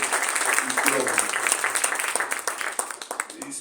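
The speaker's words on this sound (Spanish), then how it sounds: "Démosle un fuerte aplauso" An audience at a book presentation claps steadily, a moderate roomful of hands with a faint voice or room murmur mixed in beneath the applause.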